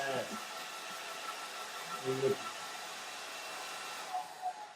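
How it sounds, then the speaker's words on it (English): An artist's heat dryer blows steadily over a watercolour painting in an outdoor session on the Amalfi coast, a continuous broadband whirring roar held throughout, with a few faint knocks and a voice briefly under it. "I'm going to lean right over here, grab my artist dryer."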